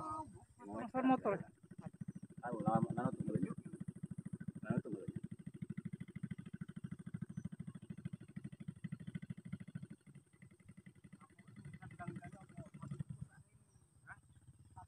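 A motorcycle engine drones steadily near the Rengit river bank in South Sumatra, a low continuous rumble that rises and holds before fading, with excited voices talking over it.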